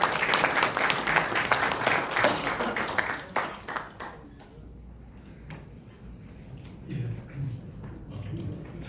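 An audience at a founding rally for a citizens' movement claps to welcome a professor to the lectern. Brisk applause for about three seconds fades to scattered claps under faint voices.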